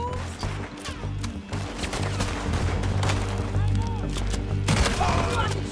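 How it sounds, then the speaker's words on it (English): Dense, sustained gunfire in Red Dead Redemption 2 during a fight with raiders: rapid overlapping shots and bursts fill the whole stretch, loud and continuous over game noise. "Oh, I fucking shoot a gun"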